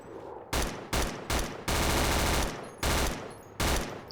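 An M203 weapon fires in Battlefield 2 in a series of about seven loud, close automatic bursts, each lasting roughly a quarter to three-quarters of a second and separated by brief pauses, with no talking.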